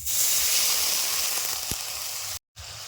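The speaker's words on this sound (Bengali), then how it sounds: "এবার অল্প একটুখানি জল দিয়ে দেবো অল্প একটু জল দিয়ে দিলাম" A splash of water hits fried onion and ginger in a hot pan, raising a loud, close, steady hiss of sizzle and steam that holds for over two seconds before briefly cutting out, with no voices.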